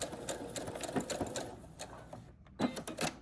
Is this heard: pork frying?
no